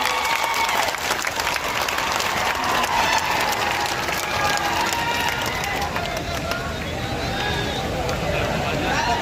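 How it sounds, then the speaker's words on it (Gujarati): Sustained applause from a large crowd at a political rally, steady and dense, with a murmur of voices mixed in underneath. "તાળીઓ ચાલુ રાખીશું મિત્રો."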